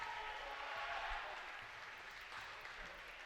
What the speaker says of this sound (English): Crowd beginning to congratulate Gill St. Bernard's on a convincing victory here against a conference opponent